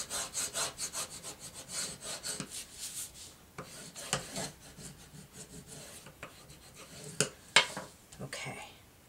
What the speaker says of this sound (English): Now I'm going to burnish that.